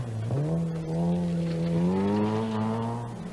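An Astra GTE Group A rally car at the 1986 British Open Rally Championship, its engine note climbing in pitch as it accelerates, steady and fairly close, then easing slightly near the end.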